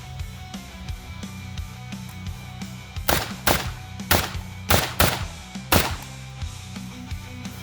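A Maadi MISR-10 rifle fires single shots at a target on a range, about six sharp loud cracks spaced roughly half a second apart over a quieter rumbling background.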